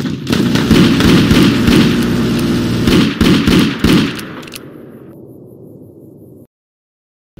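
Securitron robots open fire in Fallout: New Vegas, loud dense bursts of rapid gunfire and blasts filling the first few seconds, then fading into a lower rumbling tail before cutting to silence.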